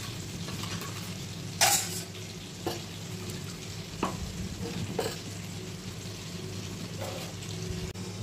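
Spice paste for a dish with cashews and sour curd sizzles gently in a pan, with several sharp scraping stirs and clinks of a spoon against the pan, no voices.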